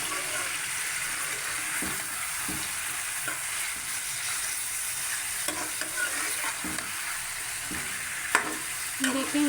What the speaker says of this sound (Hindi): इसे अच्छे से पकड़ के आप मिक्स कर लें